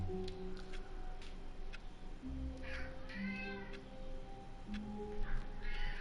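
A house cat meows repeatedly, loud and close, with drawn-out wavering cries in an irregular series.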